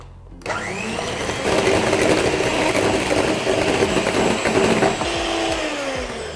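An electric mixer beats eggs and sugar with emulsifier for a steamed pandan black sticky rice cake batter, a loud steady whirring drone that starts abruptly and runs continuously, shifting pitch slightly as the batter thickens.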